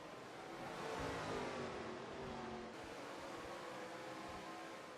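Race cars in lap traffic at Bristol in a racing video game, a steady broadband engine roar that holds at constant loudness throughout with no speech.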